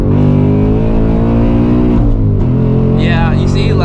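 A 2024 Ford Mustang GT S650 accelerates hard from a 60 mph roll with no lift, its V8 roaring loud and close as the revs climb, then an upshift and rising pitch at the end.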